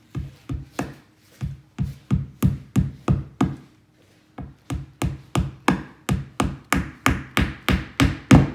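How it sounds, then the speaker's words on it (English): Hammer tapping a glued wood dowel into a screw hole, a long run of evenly spaced sharp close knocks with one brief pause midway, growing slightly louder toward the end. "Then just tap that right in."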